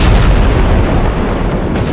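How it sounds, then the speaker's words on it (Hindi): Bomb explosion at night along the Israel–Lebanon border, a single heavy boom with a rolling low rumble that fades over two seconds. "जब ये बम रात में फटता है तो ऐसा धमाका होता है।"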